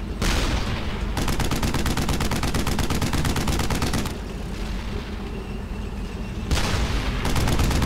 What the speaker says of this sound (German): Ich schieße einfach hier mit so lange, bis die anderen da sind.